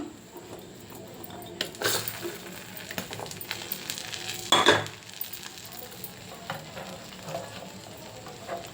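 Cumin seeds sizzling in hot oil for a spicy egg curry, a steady close crackle with spatula clinks and a louder stirring scrape partway through.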